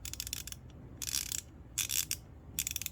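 DURATECH 90-tooth extra-long-handle ratchet with black manganese phosphate finish clicking in quick bursts, fine rapid ticking in three short runs, close up and fairly quiet with no talk.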